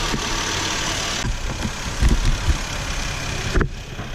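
A car engine idles steadily during an air-conditioning recharge, a continuous close rumble with a few louder knocks and revs partway through and no talking.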